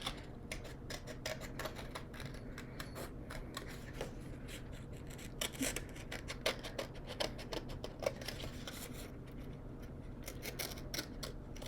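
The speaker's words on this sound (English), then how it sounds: "I'm going to cut out the circle for the bottom of his hat so it doesn't fall down" Scissors snipping out a paper circle for a craft turkey's hat, a fast run of soft, close clicks and rustles at a quiet level with no talk.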